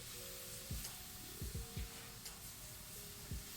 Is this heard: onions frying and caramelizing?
yes